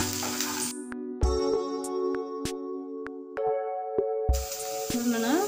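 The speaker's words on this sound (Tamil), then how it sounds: "வெங்காயம் நல்லா வதங்கட்டும்." Onions, green chilies and curry leaves frying in oil for Tamil dal rice, a steady close sizzle broken by a few scraping stirs, with bright hiss returning loudly toward the end; no talking.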